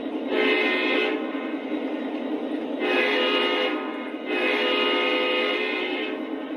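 Three long blasts from a Lionel LionChief Plus model locomotive's Ohio Central horn, a harmonic chord each time, loud and close over a constant low rumble.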